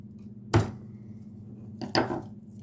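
Two sharp knife chops on a cutting board while garlic is cut, close and distinct, about a second and a half apart over a faint background hum.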